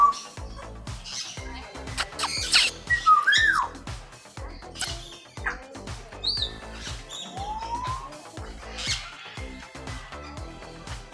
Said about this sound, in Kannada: ಆಫ್ರಿಕನ್ ಗ್ರೇ ಪ್ಯಾರೆಟ್, ಆಫ್ರಿಕಾದ ಬೂದುಗಿಳಿ ನೋಡಿ.